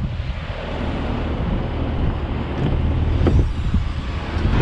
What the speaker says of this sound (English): So let's go for a quick drive on this brand new GLE.